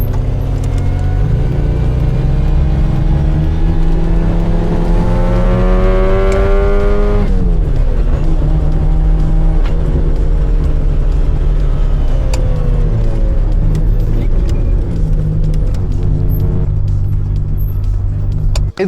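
Ferrari 512 TR from 1991 with a flat-twelve engine, loud and close, revving hard and climbing through gears before dropping back and pulling up again, a continuous throaty roar with rising pitch sweeps.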